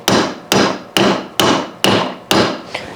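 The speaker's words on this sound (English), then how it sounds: "I'm just going to tap that down into the gear all the way down until it seats against the bushing." A Harley 4-speed top shifter part is tapped down into its gear until it seats against the bushing: six evenly spaced, loud metallic hammer blows about half a second apart, the last one lighter.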